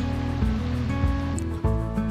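A mountain stream runs beside a hiking trail through the Orlu reserve in the Haute Ariège, a steady close rush of water with no pauses over the whole stretch.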